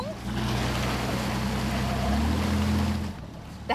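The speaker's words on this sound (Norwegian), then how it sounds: "En propell inni selve jetten skyter vannet i en stråle ut bak båten og dytter den fremover" A rescue boat's water jet engine drones steadily with rushing, hissing water from the jet stream on the Trondheimsfjord, its pitch shifting partway through before the sound drops away near the end.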